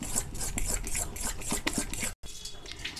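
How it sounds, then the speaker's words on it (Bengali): Batter for drumstick leaf fritters, made without baking soda, beaten by hand in a bowl with quick, regular scraping strokes, briefly pausing before the whisking resumes. "খুব ভালো করে ফেটিয়ে নিতে হবে।"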